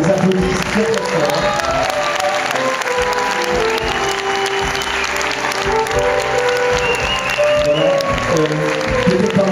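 An audience in Nice gives loud, sustained applause for students after they perform at a concert. The full clapping runs for the whole stretch, with some crowd noise and a few voices mixed in.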